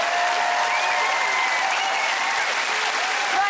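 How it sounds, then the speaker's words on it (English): A television studio audience applauds the cast of Matilda the Musical with loud, sustained, even clapping, with a few cheers mixed in. "let's give a huge round of applause to the cast of Matilda, to Cara and the hugely talented Grace"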